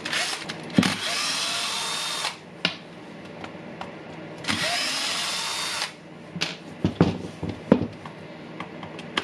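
A Dewalt DCF900 impact wrench with a fault in its hammer mechanism runs in two loud bursts of several seconds each, then falls to irregular knocks and clatter, close by with no voices.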